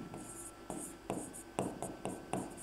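Pen scratching on paper in short bursts, about seven quick strokes of handwriting close up with brief pauses between them.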